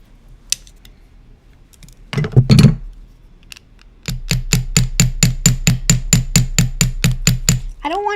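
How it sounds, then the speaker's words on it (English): Sharp metallic taps ring out close by as a hammer flattens jewelry wire on a block, first a few scattered knocks, then a rapid, even run of about a dozen strikes. "I'm going to hammer it just a little"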